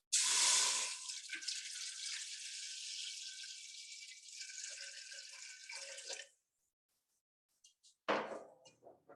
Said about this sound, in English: In a pot, I'll add some water.